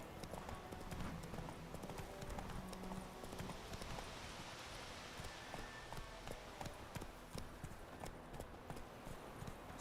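Roach, Geralt's horse in The Witcher 3, gallops along with steady clip-clop hoofbeats running under a busy game soundscape of ambient noise, with faint voices in the background.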